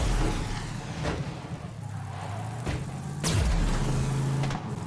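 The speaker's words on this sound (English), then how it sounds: "it sounds like a car and everything" A vehicle engine hums steadily in the Borderlands 3 video game, a low droning tone that rises and falls in pitch with a sharp impact midway, heard close and without talk.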